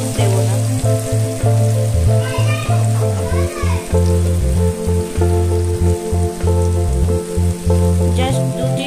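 A sweet paneer mixture with sugar sizzles and fries in a pan as it is stirred for a Bengali vegetarian recipe: a continuous close crackling sizzle over a steady low hum from the stove or kitchen.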